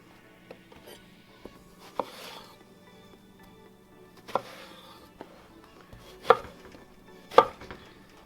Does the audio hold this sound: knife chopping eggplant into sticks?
yes